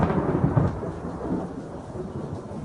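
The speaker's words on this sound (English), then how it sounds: "That's some pretty heavy thunder." Heavy thunder rumbles low and continuous through a storm, a deep rolling roar with faint rain texture that slowly eases, fairly close and loud with no voices.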